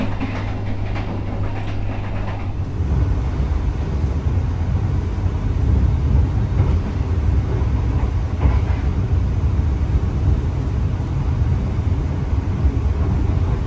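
The Majapahit passenger train rumbles steadily as it comes to a stop at Cipunagara station, a loud continuous low roar of wheels and carriage noise heard from on board, with a steady hum underneath and no talk.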